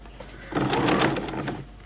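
A sewing machine stitching a bucket hat runs in a short burst of rapid mechanical whirring and needle clatter close by, starting and stopping within about a second.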